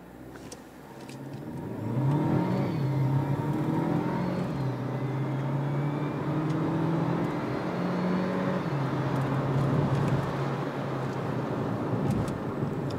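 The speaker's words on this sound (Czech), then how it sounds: "v druhém směru udělám zrychlení z 0 na 100 ještě jednou" Renault Clio TCe 130 EDC, 2020 model, accelerating from 0 to 100 km/h on a road: the engine note rises through several gear changes, stepping up and dropping back as the automatic shifts, steady and moderately loud from inside.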